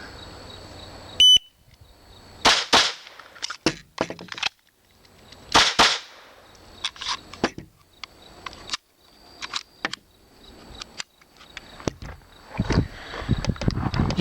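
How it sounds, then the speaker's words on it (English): Sharp gunshots from a .22 caliber SIG P226 pistol, several spaced cracks at close range, the first double action, preceded by a brief electronic timer beep. "I'm using a 22 caliber SIG P226, and the first shot is actually double action, which I'm not in favor of, but I get the shots off"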